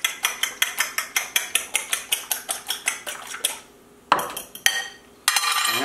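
A whisk beats four whole eggs for an egg wash, a quick regular run of sharp metallic clinks against the bowl, close and clear, ending in a few louder taps and a scrape.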